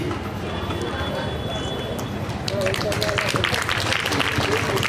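Audience applause at an award ceremony during a Hindu religious festival and conference, a steady wash of many hands clapping throughout, swelling louder in the second half.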